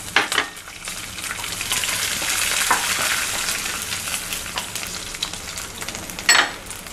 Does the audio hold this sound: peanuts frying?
yes